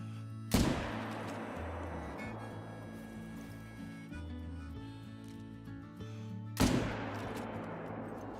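Two booming rifle shots in the hunting video game Call of the Wild, several seconds apart, each a sharp crack rolling into a long echoing tail over a low steady outdoor ambience.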